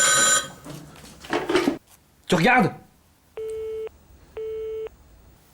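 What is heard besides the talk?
mobile phone call ringing then hung up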